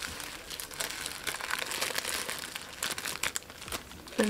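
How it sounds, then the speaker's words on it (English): Plastic piece crinkling and crumpling as it is pulled off a magnetic mask applicator, a close, steady rustle with a few sharper crackles. "So you can just take off this plastic piece."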